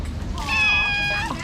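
A street cat at a Thai street food stall gives one drawn-out, clear meow close by over a low murmur of background street noise.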